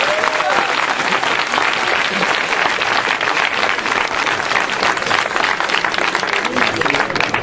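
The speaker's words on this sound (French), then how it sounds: "Est-ce qu'on peut acclamer Jésus?" A congregation at a church service applauds for Jesus, a thick and continuous wash of clapping that stays loud and even from start to finish.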